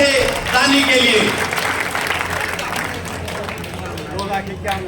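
Crowd clapping at a temple foundation-stone ceremony, loud at first and then settling into a softer, continuous patter with a murmur of voices and some speech mixed in.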